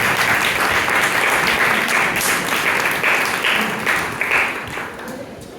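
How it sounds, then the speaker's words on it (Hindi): An audience at a Christian seminar applauds loudly and continuously, a dense wash of many hands clapping that tapers slightly toward the end. "तो खुदा यीशु मसीह के लिए जोरदार तालियां बजाएं।"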